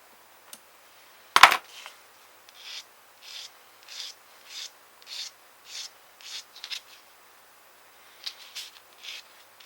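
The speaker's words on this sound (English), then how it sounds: "These prop blades are fairly fragile, so just take a bit of care filing them off." A small file rasps over the fragile plastic propeller blades of a Trumpeter Type VIIC U-boat model kit in short, regular strokes, close and quiet, after a sharp clack near the start.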